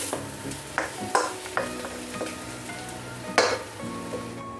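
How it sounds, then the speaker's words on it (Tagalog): Four ingredients, including egg and kangkong, are stirred together in a sizzling pan, with irregular scrapes and clinks of the utensil over a steady fry, no talking. "Paglabu-labuhin na itong 4 na ingredients."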